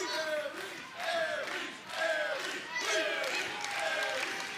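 A live wrestling crowd at a 2014 SANADA vs. Austin Aries match roars for the challenger in rising and falling waves of cheering and chanting, loud and continuous throughout.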